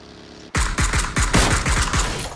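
Rapid gunfire from PUBG on a desert map, about eight evenly spaced heavy shots in a sustained burst that starts abruptly after a brief quiet moment, loud and close, with no talking.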